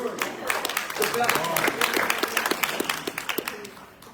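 An audience at a leadership forum bursts into applause, a dense, lively round of clapping with sharper individual claps standing out, mixed with voices and fading toward the end.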